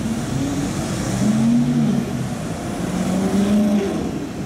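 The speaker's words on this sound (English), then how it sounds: "that is another Arab car, the M6" A BMW M6 passing on a London street, its engine droning loudly with rising and falling pitch as it goes by, fairly close and continuous, with no talk.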